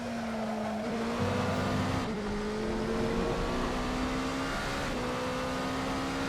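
A GT3 race car at Interlagos in a sim racing endurance event, its engine a steady tonal drone that shifts pitch near 1 s, 2 s and 5 s as it passes and changes gear, loud and continuous with no talk.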